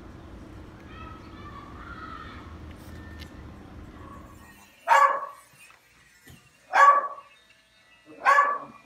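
Three sharp, high-pitched barks from a blind senior Miniature Pinscher, spaced about a second and a half apart, following a stretch of quiet low rumble and faint voices.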